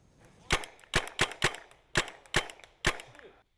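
Paintball markers firing during a team paintball game, roughly eight sharp, crisp shots in an irregular burst, close and loud over quiet background.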